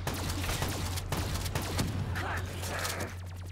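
Shotgun fire in Call of Duty Black Ops III zombies mode: dense, rapid bursts of blasts over a constant hum and game noise, easing off near the end.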